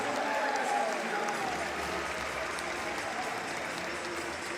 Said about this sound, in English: this is going to raise the roof from the small but mighty American contingent, cheering them on from the crowd